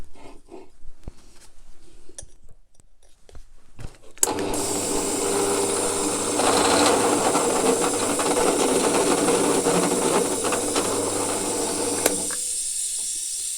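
Step drill boring a 20 mm hole into metal on a Land Rover Defender TD5 air reservoir tank, a loud steady whirring grind that starts abruptly and runs continuously for several seconds, with quieter handling noises before it.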